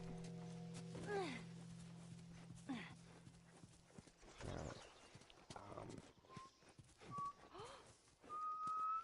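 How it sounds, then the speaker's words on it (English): A character in The Last of Us video game whistles a few short, clear notes, rising later in the stretch. Horse hoof clip-clops and soft game ambience play under the whistling. "I'm whistling."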